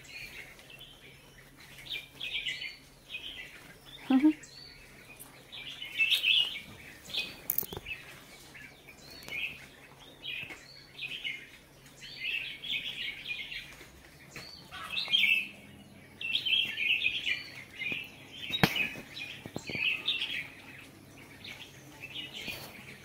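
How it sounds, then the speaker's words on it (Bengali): Birds chirp and tweet repeatedly among a custard apple tree in a kitchen garden, bright bursts of calls scattered across the clip over a soft outdoor background with a few faint knocks. "সারা গাছে পাখি, এই আতা ফল খাওয়ার জন্য আর এই পাপিতা খাওয়ার জন্য"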